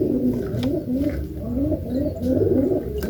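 A pigeon being bathed with water, its soft cooing and throaty gurgling sounds repeating in close, steady pulses over a low wet rumble.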